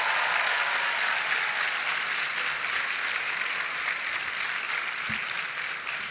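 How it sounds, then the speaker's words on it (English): Audience at an NC State University homecoming event applauding, a dense, even wash of clapping sustained at moderate loudness for the whole stretch, with no talk over it. "Give them a round of applause."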